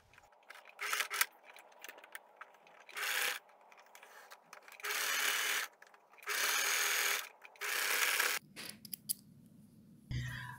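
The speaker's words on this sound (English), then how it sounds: "Now you can sew at 1 centimeter seam allowance." A sewing machine stitches a 1 cm seam on lace lingerie panties, running in several short, even bursts of whirring with quiet pauses between them.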